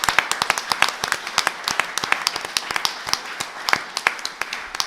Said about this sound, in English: Yeah, give applause.